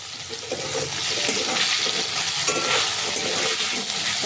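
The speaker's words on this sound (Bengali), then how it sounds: "আলুগুলোকে আমি বেশ ভালো করে ভেজে নেব, ডিপ ফ্রাই করে করে ভেজে নেব।" Salted potatoes deep frying in hot oil give a loud, continuous sizzle and bubbling hiss, steady and close, with no talking.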